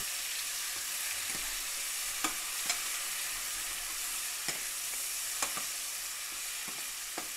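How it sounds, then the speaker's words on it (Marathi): Ginger garlic paste sautés in a pan for a gravy base, giving a steady close sizzle with scattered sharp clicks of a spoon stirring against the pan. "आता आले लसूण पेस्ट परतून घेऊया. ही सोनेरी रंगावर परतून घेऊया."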